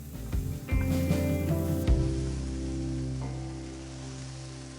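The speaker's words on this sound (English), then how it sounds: "2 tablespoons avocado oil. Garlic and ginger. The white parts from the green onions. Saute for about a minute." Garlic, ginger and green onion whites sauté in avocado oil, a soft hiss and crackle of sizzling aromatics that jumps as they hit the pan and then settles into a steady faint fry.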